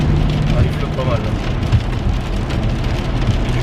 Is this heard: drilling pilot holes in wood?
no